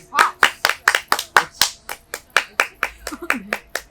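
A small audience at an outdoor festival claps in sharp, separate beats, loud and close, while voices speak over the clapping near the end.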